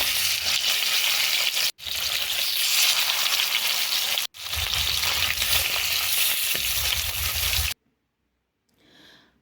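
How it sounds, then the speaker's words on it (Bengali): Fish from the Ganges sizzling and frying in mustard oil in a wok, a loud continuous crackling sizzle with two brief breaks, then stopping near the end with a faint rustle. "আস্তে আস্তে মাছগুলো ভেজে নেব।"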